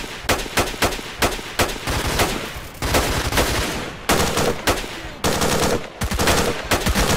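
Automatic gunfire in the Stalker Old Story mod game, loud repeated bursts of rapid shots with short pauses between them, close and punchy throughout.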